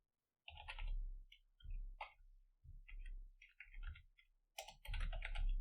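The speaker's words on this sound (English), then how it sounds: "I will type in here first of all alert" Quick bursts of typing on a computer keyboard, close and crisp clicking in short runs with brief pauses between them.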